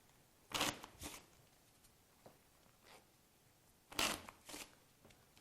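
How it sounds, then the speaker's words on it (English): A deck of playing cards is shuffled in two quick riffles, each a short, crisp flutter of rapid card flicks separated by quiet handling noise, close and fairly soft. "Put them together, and then shuffle the cards up for me."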